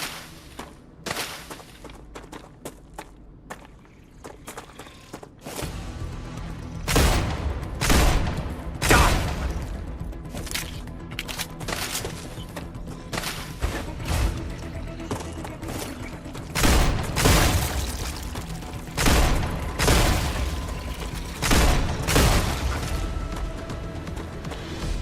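Video game gunfire aimed at alien bugs comes in rapid fusillades and bursts, punctuated by booming impacts, with several loud, dense volleys separated by brief quieter stretches over a constant game soundscape.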